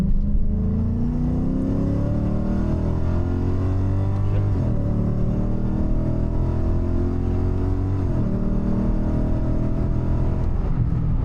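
A Lexus IS F engine with headers and a tune roars as it accelerates hard, pitch climbing steadily through gear changes, loud and close throughout.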